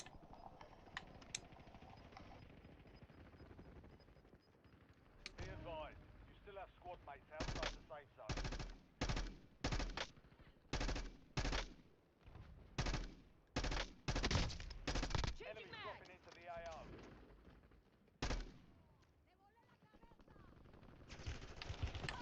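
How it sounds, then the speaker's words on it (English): Video game gunfire in bursts, with repeated sharp automatic shots in a rapid rhythmic volley, loud and close, while players talk over the action. "who's shooting us?"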